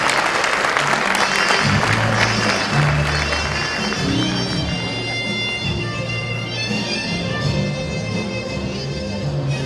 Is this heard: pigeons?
no